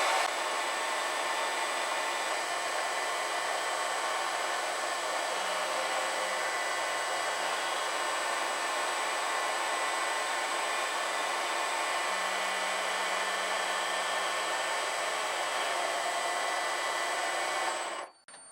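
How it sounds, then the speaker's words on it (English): A machine cutting the oil passageways into a motorcycle oil pump gives a steady, loud, high-pitched whine that holds unchanged for about seventeen seconds before cutting off abruptly. "Now it's about to go off and cut the passageways for the oil."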